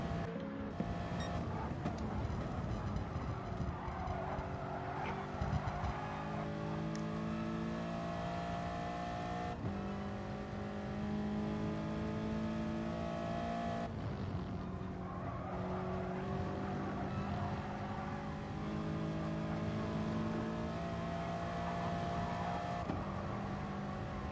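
A Toyota 86 race car in Gran Turismo Sport at Lago Maggiore, its engine droning loud and steady with rising revs and gear shifts, plus occasional tire squeal, through a continuous lap.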